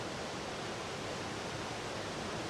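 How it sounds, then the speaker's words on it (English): A flowing river in the survival game Eco, rendered as a steady, even broadband rush of water that holds constant throughout with no talk over it. "you can hear the river"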